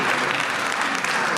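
Sustained, dense applause from an audience at a Sardinian regional powerlifting championship, greeting a 115 kg lift; steady, fairly close clapping with no pauses throughout.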